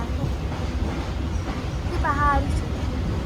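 A train rumbles steadily along from inside a carriage, a low continuous roll with a brief tonal voice-like sound partway through.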